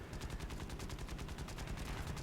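A Zero's 7.7mm machine guns fire in War Thunder, a rapid, even stream of shots with a tight rhythm, heard at a fairly low level from a steady distance.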